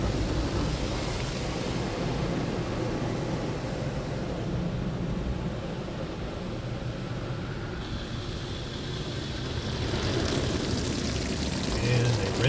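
An automatic car wash rinses a car with a continuous spraying, rushing wash of water and a low mechanical rumble, steady and moderately loud, rising slightly near the end.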